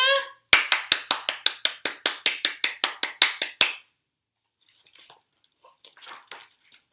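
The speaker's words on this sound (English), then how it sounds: "Clap your hands to bring" A series of about twenty sharp, evenly spaced hand claps comes close and loud, followed by quiet faint rustles.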